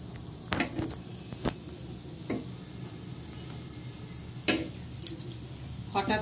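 Raw banana kebabs fry in a pan with a steady low sizzle, broken by a few sharp clicks and scrapes as they are turned.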